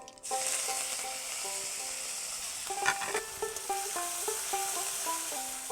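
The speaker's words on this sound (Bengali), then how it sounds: "ফোড়নটা ভাজা হয়ে গেল" A tempering of cumin, mustard seeds, white sesame and curry leaves hits hot oil in a pan with a sudden sizzle that stays steady, joined later by a series of light spoon-stirring clicks.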